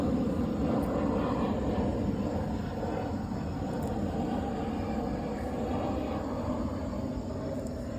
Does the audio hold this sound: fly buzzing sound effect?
no